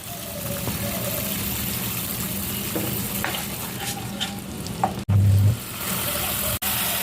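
Pholoi fish slide into a pan of hot oil with green chillies and salt and fry with a loud, continuous sizzle close by, broken by a couple of brief dropouts.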